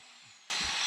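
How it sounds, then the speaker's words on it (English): An angle grinder abruptly starts up partway through, its loud broadband whine grinding old paint off metal to prepare it for welding; before that there is only quiet background. "Dad's just grinding off the paint"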